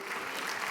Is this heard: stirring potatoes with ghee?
no